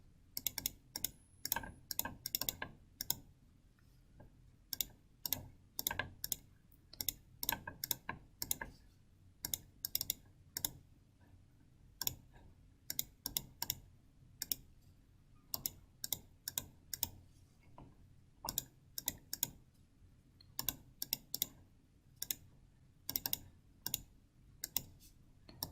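Counts from a contingency table are keyed into a calculator keypad, heard as close, quiet plastic button clicks in quick irregular bursts with short pauses between, alone in an otherwise silent room.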